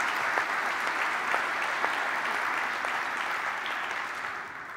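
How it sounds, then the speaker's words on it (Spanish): An audience at a cultural panel discussion applauds steadily, a dense, even wash of many hands clapping that holds for several seconds and slowly fades, heard alone without talk. "sugiero un aplauso."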